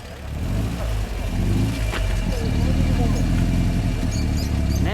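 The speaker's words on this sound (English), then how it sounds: "that's your exhaust note" A 1966 Volvo 1800 S engine revs steadily with a smooth, even exhaust note, loud and close, holding a constant drone throughout while voices talk over it.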